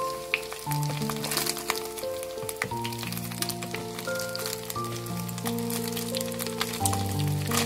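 Paneer pieces frying in oil make a busy crackling sizzle that runs the whole time, mostly under melodic background music.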